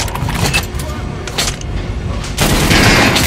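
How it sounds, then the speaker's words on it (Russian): In the Metro: Last Light video game, gunshots are fired at an armored training dummy: loud, dense bursts of gunfire and impacts, with a heavier burst near the end. "А теперь стрельни по бронированному манекену."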